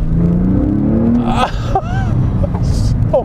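A 2002 Porsche 911 Carrera 4S (996) with a naturally aspirated engine is driven slowly over a very rough road, its engine a steady low rumble from inside the car with brief whirs and a voice over it.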